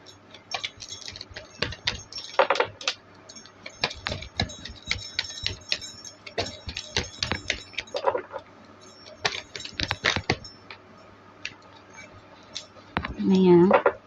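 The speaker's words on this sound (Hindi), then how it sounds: "Last shuffle." Tarot cards being shuffled, a dense run of quick papery flicks and riffles close up, with a person speaking in between.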